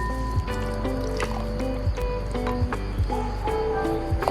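Curd poured into a hot clay pan for an ivy gourd pachadi, a soft continuous trickle and gentle liquid splashing with faint kitchen clatter underneath.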